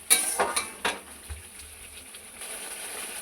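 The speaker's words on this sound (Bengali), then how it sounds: "মশলাটা ভালো করে কষে নেবো যতক্ষণ না তেল ছেড়ে যাচ্ছে" Spice masala stir-fried in a pan for basanti pulao, with a few close scraping clinks of a spatula early on, then a faint steady sizzle.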